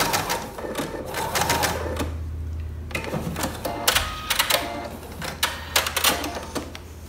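Sewing machine stitching a seam on a lined baby boy romper, bursts of rapid mechanical stitching with short pauses between runs as the fabric is guided, close and fairly loud.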